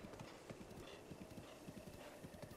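Rapid clip-clop of a galloping horse's hooves in The Legend of Zelda: Breath of the Wild, a steady rhythmic drumming that runs evenly throughout over a soft wash of background noise.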